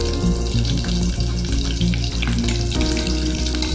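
Curry leaves and mustard seeds frying hard in hot oil for a Tamil mor kuzhambu, a loud, dense, continuous sizzle and crackle close up, with no voices.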